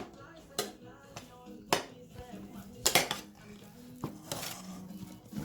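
Herbs being mixed into pork in a bowl for a Thai steamed bamboo shoot dish, heard as a series of sharp clinks and scrapes of a utensil against the bowl at irregular intervals, close and fairly loud.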